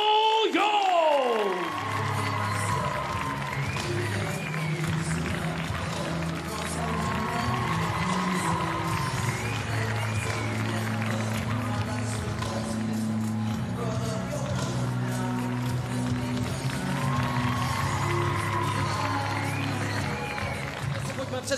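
A crowd at a WLF kickboxing event in Prague applauds and cheers as a fighter from China, Liu Yong, is introduced. The roar is sustained and fairly loud for over twenty seconds, with an announcer's voice and music running over it.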